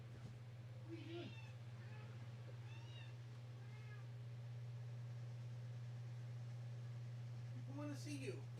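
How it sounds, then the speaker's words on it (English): A house cat meows a few times in a room, with short, nearby calls at the start and again near the end over a steady low mains hum. "Alright, let's go get the cat."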